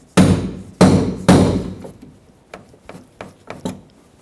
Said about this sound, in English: Use a hammer and a punch this out.